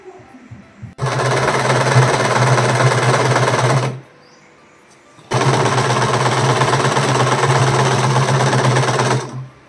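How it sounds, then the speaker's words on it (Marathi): A sewing machine stitches along a folded saree border in two sustained, loud, close runs of rapid needle chatter, about three seconds and four seconds long, separated by a short quiet pause. "ती आपण स्टिच करून घेतोय तर अशी ही फोल्ड करायची आणि असे पण याच्यावरती शिलाई करून घेणार आहोत"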